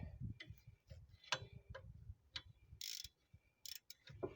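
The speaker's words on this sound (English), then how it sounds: "I haven't had a lot of chances to use my ratchet, so I'm trying to use it" A hand ratchet clicks in short, irregular bursts while loosening a front suspension bolt on a Ford Focus during a teardown, with faint clanks and soft rustling in between, close but quiet, and no clear talk.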